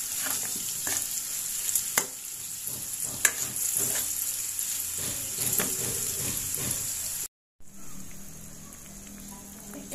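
Tofu and young corn fry in hot oil for a vegetable lodeh, a steady close sizzle broken by scattered clicks of stirring utensils and a short gap of silence near the end.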